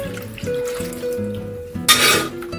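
A short splashing pour of mutton-boiled stock into a pot, lasting under half a second, after some steady humming kitchen tones.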